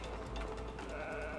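A sheep bleats in the video game It Takes Two, one short, fairly quiet call over a steady game background.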